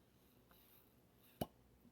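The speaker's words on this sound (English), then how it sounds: "Okay, let me get this open." A single sharp pop of a bottle of homemade mead being uncorked, short and fairly quiet, over a faint background hiss.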